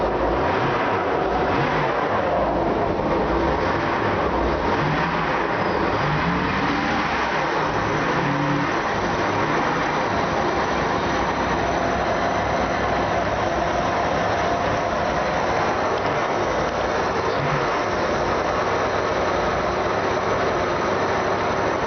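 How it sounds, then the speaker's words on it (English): A Mares engine runs steadily at a loud, constant drone throughout, with a slight rise in intensity early on as it is given a little gas. No voices are heard. "I always like to spin the drives, just let the oil circulate, and give it a little gas."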